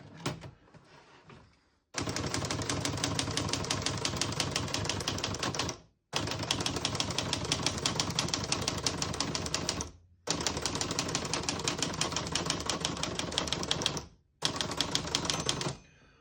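Rapid clacking of a 1975 Olivetti Lettera 25 manual portable typewriter in long continuous bursts, broken by short pauses between lines, close and crisp.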